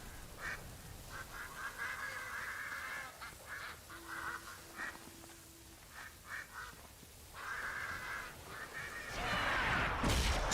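A duck quacks in repeated nasal bursts, some clustered in quick runs and others separated by short pauses, close and clear, ending in a louder rush of noise.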